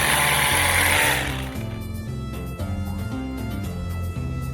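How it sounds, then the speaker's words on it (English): A power drill bores holes into a wooden fence post, its motor whining steadily and loud at first, then settling into a lower, labouring grind as the bit bites into the wood. "Trying to drill lots of holes to weaken it."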